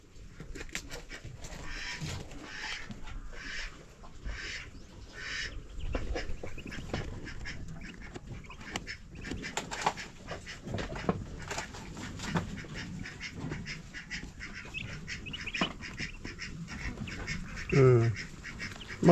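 Ducks and ducklings quacking repeatedly, with the harsh, agitated quacking of an angry mother duck standing out, while a person talks nearby.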